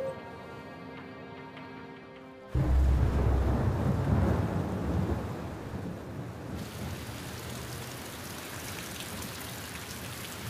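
A soft tonal passage cuts abruptly to loud rumbling thunder and heavy, hissing rain that gradually settles into a steady downpour.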